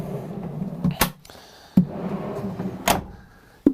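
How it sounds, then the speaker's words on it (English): Full-depth drawers in a van cabinet slide open and shut, giving several sharp knocks and rolling scrapes spread across a few seconds, close and fairly loud. "3 full depth drawers that fully come out on here"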